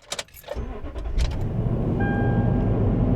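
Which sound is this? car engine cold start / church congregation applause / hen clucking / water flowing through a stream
car engine cold start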